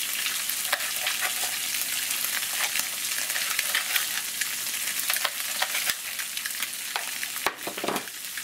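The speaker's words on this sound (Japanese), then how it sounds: "よく炒めます" Miso, sugar and mirin are stir-fried in a pan, giving a close, steady crackling sizzle with scraping stirring strokes throughout and no speech.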